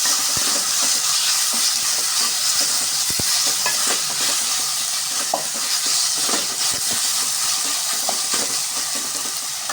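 Onions sizzle in oil in a pan with a little salt for chana masala, a loud, continuous frying hiss with occasional scrapes and clicks of stirring close to the pan, no voices.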